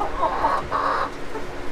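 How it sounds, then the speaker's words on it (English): A large rooster clucks in a few short bursts, close by, with a low farmyard murmur underneath. "Big old rooster."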